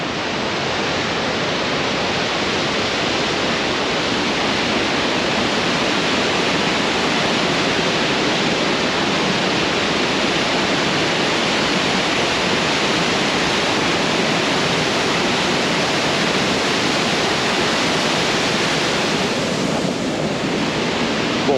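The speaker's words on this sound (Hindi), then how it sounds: "बहुत ही गजब हाई स्पीड पानी आ रहा है" Fast mountain water rushes in a loud, steady roar beside the Killar Kishtwar road in India, a dense unbroken torrent that holds constant with no pauses or voices over it.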